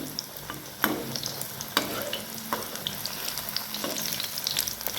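Ridge gourd bhaji deep-frying in hot oil over a low flame, with a steady close-up sizzle, occasional sharper crackles and pops as the fritters are turned, and no talking.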